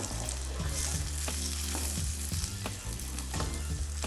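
Tarka for dal sizzles loudly in a pan while being stirred, producing a dense, continuous crackle broken by repeated scraping strokes of the spoon; no one speaks.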